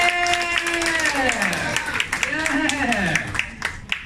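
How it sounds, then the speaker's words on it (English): Audience clapping at an Elken company event, scattered claps and crowd noise under a voice calling out loudly with pitch swoops across the whole stretch. "A big hand to my upline, Mr. and Mrs. Lee."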